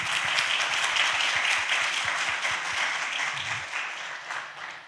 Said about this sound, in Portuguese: Palmas para o Joaquim.